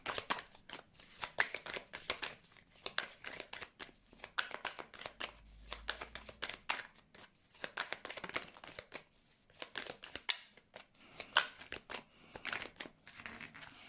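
Thick oracle cards being shuffled by hand, a steady run of dense riffling slaps and soft crinkly flutters over about fourteen seconds, close and fairly quiet with no voices.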